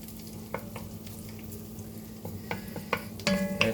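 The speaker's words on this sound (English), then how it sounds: "I want to get my wooden spoon out. Kind of stir it around just a little bit" Wooden spoon stirring bolognese mince as it fries in a pan, a steady low sizzle under scattered scraping clicks of the spoon that grow busier and louder toward the end.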